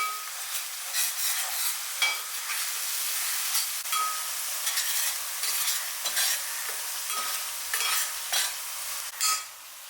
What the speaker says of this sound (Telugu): చక్కగా ఈ ఆయిల్లో మంచిగా ఈ మసాలాని ఫ్రై చేసుకోండి